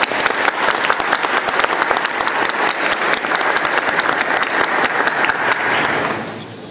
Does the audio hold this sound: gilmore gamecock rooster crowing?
no